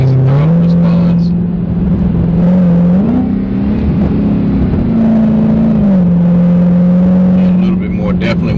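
Dodge Hellcat V8 with a modified exhaust revving loud and close, a deep droning note that climbs and falls with the throttle, with a voice talking over it.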